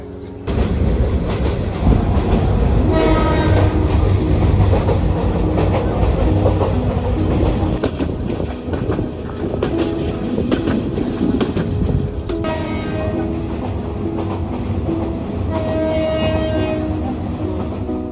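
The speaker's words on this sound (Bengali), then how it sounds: "স্টেশনে আসা মাত্রই আমরা দেখি আমাদের ট্রেন তার গন্তব্যে যাওয়ার জন্য প্রস্তুত" A train stands and rolls at a railway station in Sylhet, Bangladesh, with a loud continuous rumble of wagons, rhythmic clatter and a sustained horn blasts rising partway through, close and dominant the whole time.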